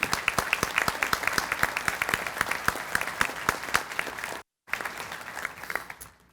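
Modest group applause at a community breakfast honoring a realtor association board, distinct individual claps close by in a quick irregular rhythm, broken by a brief gap and fading toward the end.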